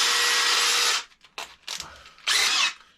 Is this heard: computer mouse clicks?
no